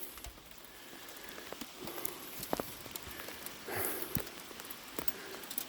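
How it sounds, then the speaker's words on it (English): Moderate-sized hailstones fall from the sky and bounce outdoors, making sparse, irregular ticks and taps over a quiet background. "look what starts falling out of the sky. You got freaking hail."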